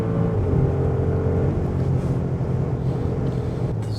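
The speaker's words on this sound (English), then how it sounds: "That V8 rumble is amazing." A 2025 Audi SQ8 with a 507 hp V8 gives a steady, deep rumble on the autobahn, a moderately loud continuous engine drone with road and wind noise and no voices.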